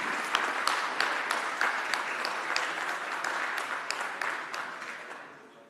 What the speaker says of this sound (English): A small clap for Robert.